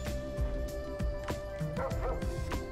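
Synthesized dog voice for a custom monster in the video game Amazing Island, a run of yips, barks and small whimpers repeating steadily over a continuous background music bed.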